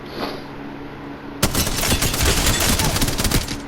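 Spitfire light machine gun in Apex Legends firing a long, dense automatic burst of rapid shots, loud and close, starting after a quiet lead-in and continuing steadily to the end with no talk.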